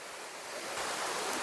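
A large waterfall beside a swimming hole on the Cascades walking track in NSW, heard as a brief, steady broadband rush of falling water that swells slightly louder toward the end.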